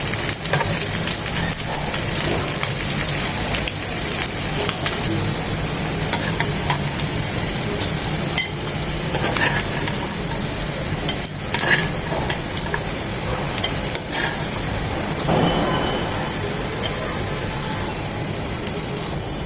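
Beef chow mein ingredients fry in a pan with a steady, loud sizzle and frequent stirring scrapes that continue without pause, and no voices are heard.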